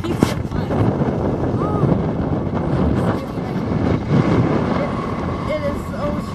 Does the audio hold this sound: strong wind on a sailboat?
yes